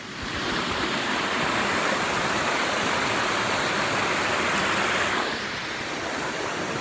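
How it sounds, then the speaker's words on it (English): River water smashes against rocks in a loud, steady roaring rush like a small waterfall, easing off slightly toward the end, with no voices. "That's the sheer force of the water smashing against these rocks and breaking them up."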